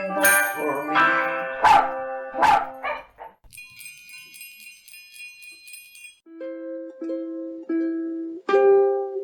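A dog barks and yips in time with a children's song about a pet dog, several loud, close barks in a rhythmic row over melodic backing, then higher electronic tones and sustained musical notes with no talking.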